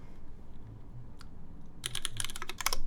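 Typing on a mechanical keyboard fitted with Cherry MX Black clear-top switches: a few isolated keystrokes at first, then a fast burst of crisp, close clacks toward the end, with no talking.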